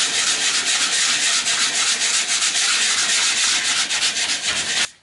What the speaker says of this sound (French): avec un gros grain de 36, je vais donc, avec une petite cale arrondie, commencer à retirer le plus gros du cinto que j'ai rajouté